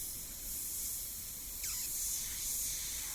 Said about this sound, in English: Got a little spitting on my airbrush